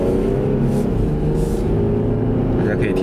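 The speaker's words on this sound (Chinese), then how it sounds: "大家可以听到引擎的声音了，" A Jeep Grand Cherokee's 3.6-litre V6 drones loudly from inside the cabin during a test drive, a dense, steady low rumble with a slight rise in pitch.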